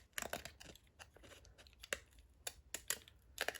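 Pinking scissors snip along a paper edge in a run of short, crisp cuts with brief pauses between, close and fairly quiet, with no talking.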